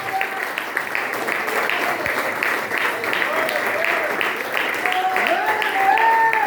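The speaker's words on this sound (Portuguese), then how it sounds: "Vamos dar uma salva de palmas ao Senhor." Church congregation applauding during a worship service, steady clapping from many people throughout, with voices and shouts mixed in and some sung or called-out tones rising near the end.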